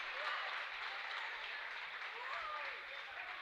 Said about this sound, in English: Another big applause.